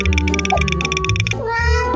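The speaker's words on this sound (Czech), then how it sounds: "Je to kočka." A cat hidden under someone's sweatshirt meows repeatedly and loudly up close, with several drawn-out, wavering cries in quick succession and no speech.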